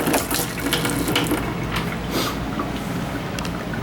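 Water runs from the pull-out sprayer of a 2023 Wildwood 31KQBTS RV kitchen faucet, a close, steady hiss and splash into the sink with a few brief surges, no voices.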